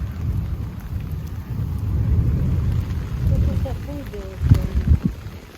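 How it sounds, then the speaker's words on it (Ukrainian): Thunder rumbles through steady rain in a storm outdoors, with a few sharper rolling cracks near the end, while a voice speaks over the downpour. "Щось таке воно гримить, гримить. Грім гримить"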